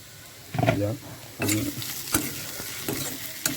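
Bitter gourd and potato fry in a pan with a soft sizzle, broken by several scraping stirs of a spatula at close range, and no talk.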